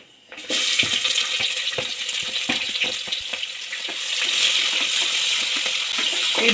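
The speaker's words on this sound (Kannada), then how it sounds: "ಈರುಳ್ಳಿ ಅಂತ ಗೋಲ್ಡನ್ ಬ್ರೌನ್ ಆಗೋವರೆಗೂ ಹುರ್ಕೊಳ್ಳಿ" Onions fry in oil with whole spices for a tomato biryani, starting with a sudden loud sizzle as they hit the pan. A dense, continuous crackling hiss follows, with stirring clicks scattered through it, close and steady.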